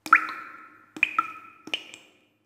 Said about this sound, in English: I take a soldering iron and I end up just dripping the weight into the void.